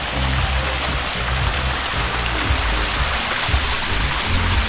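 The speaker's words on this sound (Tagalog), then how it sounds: "Maliit na falls." Small waterfall in Infanta, Quezon, with strong water pouring and rushing constantly, a loud, dense roar that fills the whole moment.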